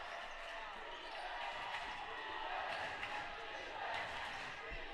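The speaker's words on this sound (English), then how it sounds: "The deafening noise coming from the Bison crowd" A loud, roaring crowd fills a boys basketball game between McCook and Hastings, sustained cheering and yelling with occasional ball bounces and court thuds beneath it, while a voice talks over the din.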